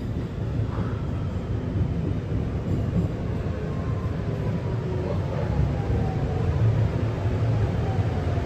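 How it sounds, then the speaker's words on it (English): An R211A subway shuttle train on the IND Rockaway Line, bound for Rockaway Boulevard, rides along with a steady low rumble and faint whining tones, continuous and close from inside the car, with no talk. "This is a Rockaway Boulevard bound shuttle train."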